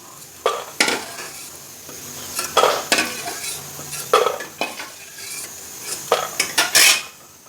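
Gram flour pieces being fried and turned in a pan, with repeated metal scrapes and clinks of a spatula over a soft, steady sizzle, close by, with no talking.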